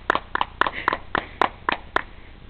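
Hand claps at an indoor fire poi spinning session: about eight distinct, evenly spaced claps, close and crisp, with quiet gaps between them.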